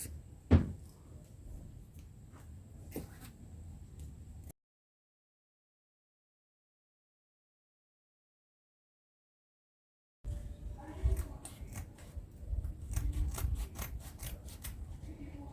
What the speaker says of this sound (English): Now I'm going to cut it out.